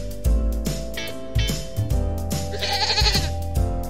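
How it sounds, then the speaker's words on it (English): A goat bleats in several short wavering calls over a backing of children's music. "Goat."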